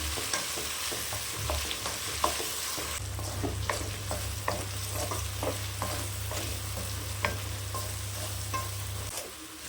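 Chunks of elephant foot yam fry in hot oil with a steady, close crackling sizzle, scattered pops and occasional stirring scrapes, under a low constant hum and with no talk.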